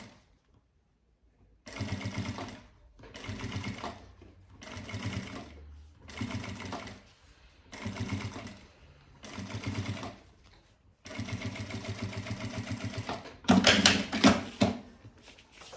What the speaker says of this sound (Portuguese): eu já vou usar o maior ponto da máquina, ponto 5. Para fazer esse pesponto.